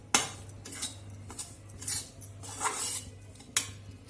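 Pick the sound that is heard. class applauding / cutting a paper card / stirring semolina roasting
stirring semolina roasting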